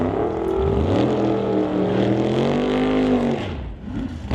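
Super Street index drag race cars, a Chevy II and a Duster, roar down the strip together with a loud, sustained engine drone that sweeps upward in pitch, then drops away as they pass.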